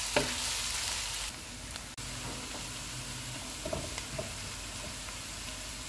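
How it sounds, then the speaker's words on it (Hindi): Sliced onions sizzling and frying in a pan, cooking toward golden for vegetable biryani, a steady close hiss with a few stirring clicks and scrapes, no voices. "इनको गोल्डन फ्राई करेंगे।"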